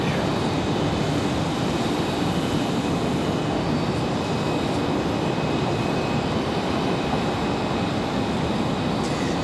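A JetBlue Boeing 737 taking off at Raleigh-Durham International Airport, a loud continuous roar of jet engines that stays steady and broadband from start to finish, heard from close by.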